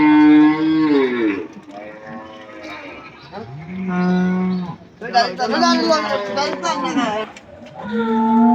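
Cattle at the Joypurhat livestock market moo loudly while being loaded onto a vehicle, a series of long, drawn-out bellows from close by, one after another with brief pauses between.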